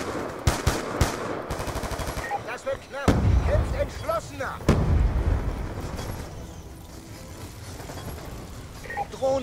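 Rapid automatic gunfire and single shots from the video game Call of Duty Black Ops II, loud bursts with a heavy thump near the start, fading into gameplay noise and background sound effects.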